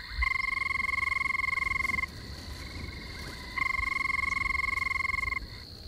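Recorded mating call of a black and red toxic frog, played back as two long, loud, buzzing trills separated by a short pause, with a steady electronic hum underneath.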